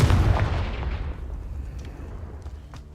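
A Confringo fire spell explodes in Hogwarts Legacy: a loud, close, booming blast that hits at once and then rumbles and fades away over a few seconds, with no talking.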